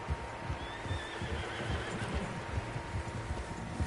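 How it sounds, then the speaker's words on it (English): Several horses whinny and neigh in Red Dead Redemption 2, with steady hoof clip-clop beneath, the calls fairly close and overlapping against an outdoor ambience. "Horses, quite a few of them."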